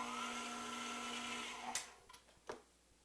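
An electric mixer runs slowly, mixing flour into dough for homemade ice cream sandwiches, with a steady close whirring hum that cuts off partway through, followed by a few sharp clanks against the bowl.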